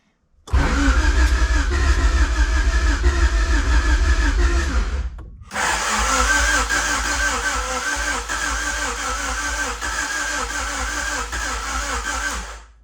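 A Honda CRX Si with a freshly installed DOHC ZC engine cranks and fires after a long idle spell: a loud rhythmic starter whir, a brief pause, then more cranking with squeaks as the motor tries to catch.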